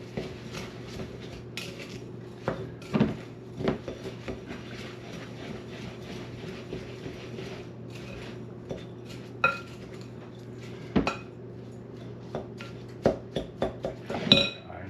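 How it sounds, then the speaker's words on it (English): A spoon clinks and scrapes against a bowl while pork rind and cheddar cheese cracker dough is stirred, with irregular knocks scattered over a steady low hum. "we're just going to mix it. It's going to form like a sticky dough."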